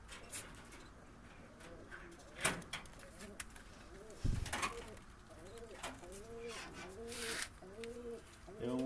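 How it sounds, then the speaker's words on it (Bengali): Pigeons in a loft give repeated rolling coos, several overlapping in a steady rhythm, with soft rustling and scraping in between and a couple of sharp knocks. "ষষ্ঠ ক্লাস পায়রা"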